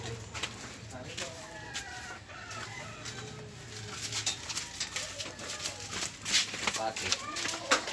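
Bantam chickens cluck and call repeatedly in a backyard coop, with sharp close clucks that grow busier toward the end while someone talks over them.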